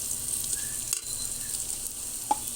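Onions fry in hot oil for a tilapia fish curry, a faint steady sizzle close by with a couple of small clinks from stirring, no talking.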